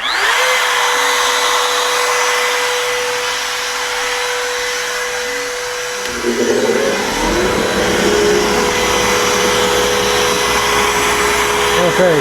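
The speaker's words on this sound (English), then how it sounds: "And then we're going to turn the spindle on. Like I said, it's going to get kind of noisy because we're so close to it." CNC router spindle cutting a wooden cabin sign, a loud steady high whine with a dust collector's broad roar, the spindle tone shifting and a deeper rumble joining midway.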